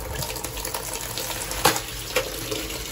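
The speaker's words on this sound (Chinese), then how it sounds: "现在把肥肠清洗一下" Tap water runs steadily into a sink while fatty pork intestines are rinsed by hand, with a couple of louder splashes standing out over the constant flow.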